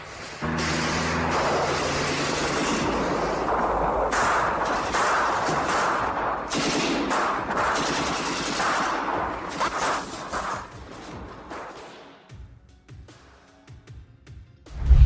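Machine-gun fire and other gunfire from a war scene roar as a dense, continuous barrage for about twelve seconds, then thin out and fade, with a sudden loud burst at the very end.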